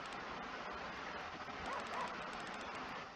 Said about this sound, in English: Oh, that dog's going crazy.